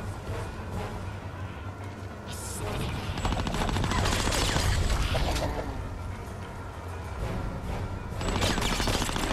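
Loud, sustained automatic gunfire in Conker's Bad Fur Day as doctors are shot, a dense rattling barrage with clattering impacts that swells and keeps going without pause.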